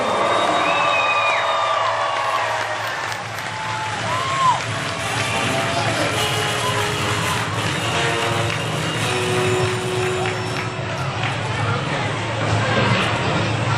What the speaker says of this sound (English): Megasaurus looking for your applause. Come on, ladies and gentlemen, give it up for him.